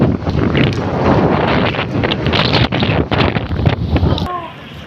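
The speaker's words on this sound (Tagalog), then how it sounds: "Napakalakas ng hangin." Strong storm wind from a typhoon roars and buffets against the microphone in heavy, gusting bursts, a harsh rushing noise that fills the whole clip.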